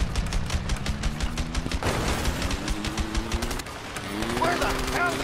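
Continuous automatic gunfire from the co-op video game A Way Out rattles steadily at moderate level, with voices talking over it and a brief dip in the shooting near the end.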